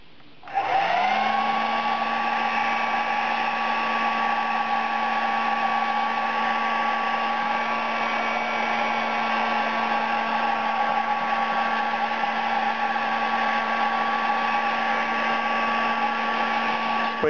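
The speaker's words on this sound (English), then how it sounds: "I just happen to have a hair dryer here." A hair dryer on its low setting heats an iPad 2 protective film, switching on with a quick rise into a loud, steady whirring blow with a constant motor whine that continues evenly without any talking.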